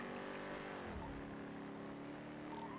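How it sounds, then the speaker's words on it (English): A speeding car, a Coquette sports car in the game GTA V on a NoPixel roleplay server, races past westbound with a steady engine roar whose pitch drops as it passes by. "I do have a speeding vehicle westbound passing Senior Buns."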